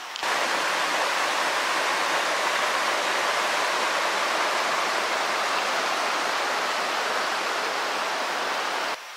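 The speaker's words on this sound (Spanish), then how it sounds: "Entonces ahí está el río." The river at Abrams Creek campground in the Smoky Mountains rushes in a dense, even roar that holds steady and close from start to finish.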